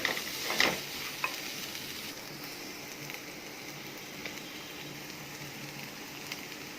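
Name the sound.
vegetables sautéing with ginger garlic paste and salt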